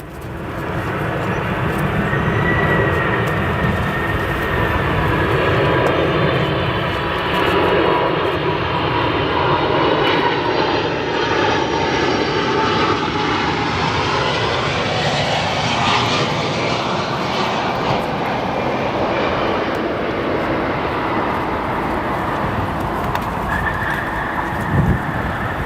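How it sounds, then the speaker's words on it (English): A Boeing 747 landing in strong wind at Chicago O'Hare, its engines roaring loudly and steadily for the whole stretch, with the pitch sweeping as the jet passes close by and a rising whine near the end. "Let's watch this 747 battle with the wind."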